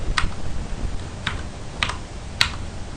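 A few sharp keystrokes tapped on a computer keyboard while entering Ctrl X commands in a Linux terminal, four separate clicks spaced irregularly over a few seconds with no voices.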